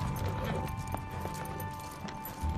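Horses ridden in combat by American soldiers in Afghanistan, hooves clip-clopping steadily under broadband outdoor noise, with a few sharper hoof strikes standing out over nearly three seconds.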